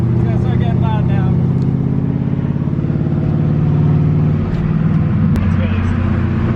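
A Rocket Bunny Nissan 240SX on a track, heard from inside during a ride-along. Its engine revs loud and steady with a strong harmonic drone and shifting pitch. Voices talk over it.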